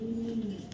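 A white racer male pigeon coos close by, a low throaty warble lasting under a second before cutting off.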